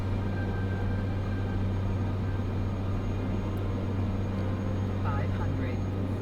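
A single-engine Cessna 208 Caravan turboprop drones steadily on approach in Flight Simulator, a constant loud hum with a deep tonal core and no letup. A voice murmurs briefly near the end.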